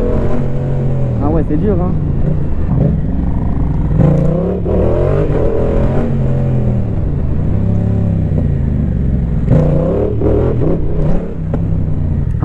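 Yamaha Tracer 700 motorcycle engine roars hard and close in first gear, revs climbing and dropping in repeated surges, with someone speaking briefly over the noise.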